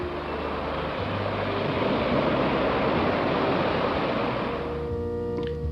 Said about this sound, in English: the roar of the Whalewhā Fall